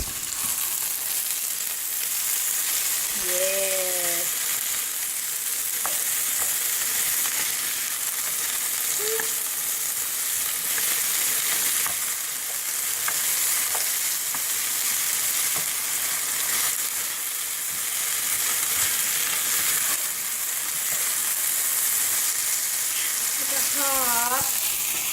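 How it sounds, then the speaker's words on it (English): Eggs and potatoes fry in hot oil with a loud, steady sizzle and scattered pops running through the whole stretch, while a voice speaks briefly now and then. "Now, it's sizzling and it's popping, and we need to stir."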